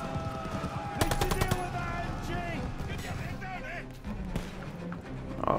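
Rapid machine gun bursts rattle in Call of Duty: Vanguard, a tight string of loud close shots followed by scattered fire and battle noise, with voices shouting over the combat.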